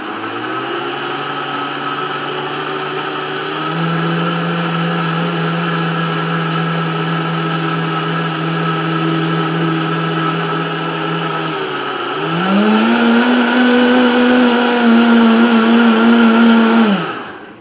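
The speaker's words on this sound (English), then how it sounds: "Then we're gonna blend this all up" Blender mixing peanut butter chocolate chip muffin batter, a loud steady motor whir close by that shifts pitch a couple of times, rising higher near the end before stopping.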